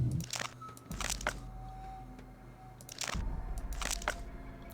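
Pottery crunching in a Nancy Drew video game, Secret of the Scarlet Hand: a few bursts of crisp crunching and cracking, grouped in pairs, over a quiet low hum with soft tonal chimes between them.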